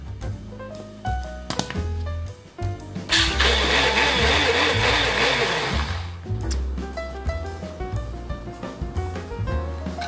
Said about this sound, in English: Then add 1 pack of sodium alginate and blend.